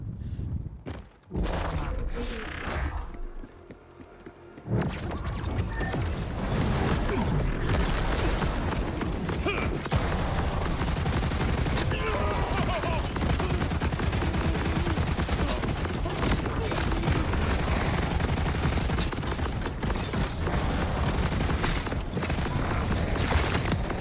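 Sustained gunfire in Borderlands 4: after a few seconds of quieter clicks and mechanical handling, a dense, loud, continuous stream of rapid shots and explosions runs for about twenty seconds, with occasional speech faintly underneath.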